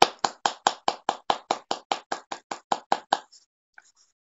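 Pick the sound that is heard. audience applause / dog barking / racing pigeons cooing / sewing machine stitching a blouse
audience applause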